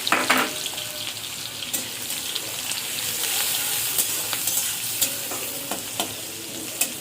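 Chopped onion sizzles in hot oil in a wok after eggs were fried, a bright constant crackle broken by sharp scrapes and clacks of stirring.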